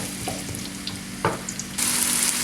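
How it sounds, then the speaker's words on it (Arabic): Chopped onion lowered into hot olive oil for mujaddara, a soft steady sizzle that jumps to a loud, bright hiss near the end as the onion hits the pan, with a few light clinks before it. "ولو بس يحمى الزيت بدنا ننزل عليه البصلة"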